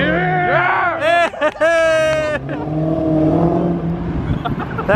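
Modded Mopar muscle car revving its engine leaving a car show, loud near blips and roars rising and falling over excited crowd chatter and shouting.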